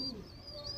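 An Andhra pigeon, a champion-line youngster, gives a soft, faint coo in a short single phrase, heard close but quietly with no talking.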